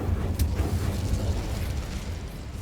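In Hogwarts Legacy, an Incendio fire spell goes off with a sudden burst and crackle at the start, followed by a rumbling whoosh that fades over a couple of seconds.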